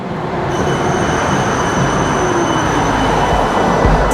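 A tram in Australia stopping and pulling away, heard as a loud, close, continuous rumble of wheels on rails with a high whine and squeal running through it, and no talk.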